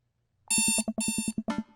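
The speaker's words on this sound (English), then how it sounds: "I jogged away to the sound of alarms." An alarm clock ringing in the video game Dream Daddy, a short burst of rapid, bright, buzzy electronic pulses that starts abruptly and stops within about a second and a half.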